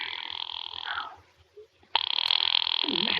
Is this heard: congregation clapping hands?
no